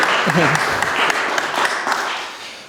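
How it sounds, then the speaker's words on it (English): Steady applause from an audience fills the whole stretch, dense and even, with voices faintly mixed in. "can we give a round of applause"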